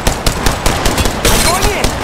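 Gunshots in Apex Legends Mobile, a loud, close run of repeated shots in quick bursts that fills the whole moment over the game's ambient noise.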